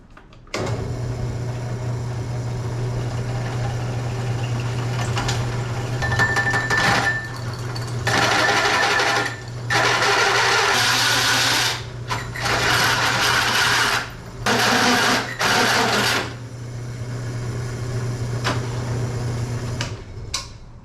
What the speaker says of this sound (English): So I just gotta drill the holes and start doing the dimples.